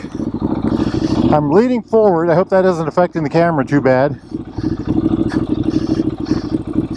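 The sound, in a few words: Norton Commando 961 SF motorcycle engine while riding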